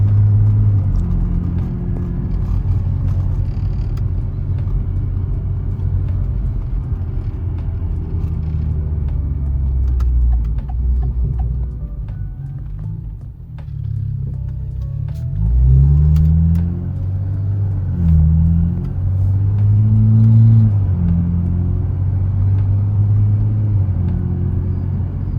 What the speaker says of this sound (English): So far so good. Car's running good.